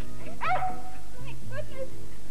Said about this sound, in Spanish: Esta escena de bienvenida entre Marilyn y el perro de la familia, una secuencia de 15 segundos, costó un día entero de rodaje.